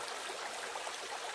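A river flows through a forested valley, giving a steady, even rush of water that stays constant throughout with no voices.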